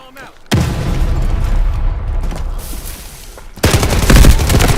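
MK-47 rifle in the Delta Force video game fires in loud, close bursts, a sustained rattle of rapid shots that pauses briefly and then resumes heavier near the end.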